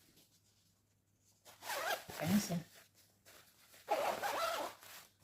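A zipper on a home-sewn gathered gown is pulled in two quick, close rasping strokes, with a brief spoken question between them.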